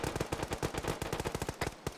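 Rapid automatic gunfire in a game, a dense burst of about twenty sharp shots in quick rhythm, loud and close, firing off before a countdown to three is finished.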